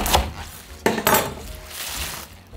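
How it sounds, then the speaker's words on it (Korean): A knife cuts through a head of napa cabbage on a board, giving a few crisp, crunchy chops and a sharp knock of the blade, close and fairly loud, with rustling leaves between strokes. "배추 대가리 자르고요."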